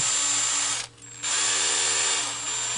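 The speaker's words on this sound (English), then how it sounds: "I'm going to carefully drill into it because there's a hose in there" A power drill whines steadily at close range, drilling into a plastic toy, cutting out briefly before spinning up again and running on with a slight drop in pitch.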